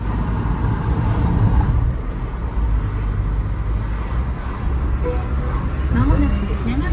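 A car driving along a road in Japan, a steady low engine and tyre rumble with passing traffic noise throughout, while a voice talks over it and a navigation voice chimes in.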